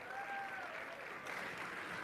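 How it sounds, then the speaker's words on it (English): Audience applause after a school performance at a youth event, a steady, fairly faint wash of clapping lasting a couple of seconds, with a voice faintly present under it. "A big round of applause, please."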